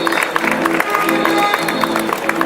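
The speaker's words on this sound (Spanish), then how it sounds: "el compañero Walter Humala, para quien pido un fuerte aplauso revolucionario" Applause at a Peruvian political prisoners' day event, a rapid crowd clapping with a sung or tonal musical line running underneath, fairly loud and close.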